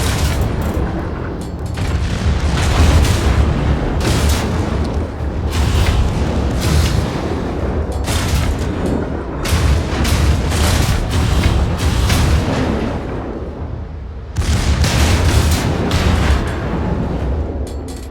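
Main guns and explosions roar throughout a naval battle video game, with repeated heavy booms and blasts layered over a dense, loud rumble of continuous gunfire.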